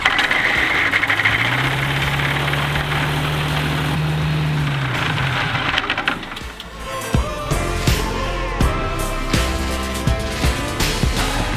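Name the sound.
engine running and idling after oil change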